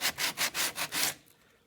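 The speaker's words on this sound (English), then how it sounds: "I'm just sanding some more Bondo out of here and getting it smoothed out" Bondo filler on a C3 Corvette interior trim panel is hand-sanded with a 2x4 block, six quick, close, rhythmic rasping strokes that then stop.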